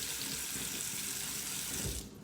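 A tap runs steadily into a sink during a morning face rinse, a close, continuous rush of water that cuts off near the end.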